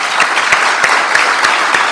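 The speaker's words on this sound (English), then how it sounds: "let's give them a round of applause." Audience applause at a Rotary Club scholarship awards ceremony in Northwest Louisiana, a steady, dense wash of clapping filling the room with a few sharper claps standing out throughout.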